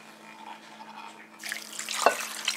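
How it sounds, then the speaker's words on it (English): Beef broth poured from a container into a slow cooker for beef barley soup: a soft, close splashing pour that starts partway through and builds, with a brief louder gurgle near the end. "Put our broth in there"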